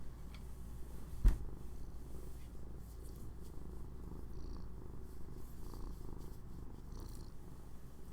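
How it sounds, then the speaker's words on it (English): A contented cat purrs in a low, steady continuous rumble for several seconds, quiet and close, with one brief louder bump near the start and no talking. "Please let us hear her purr."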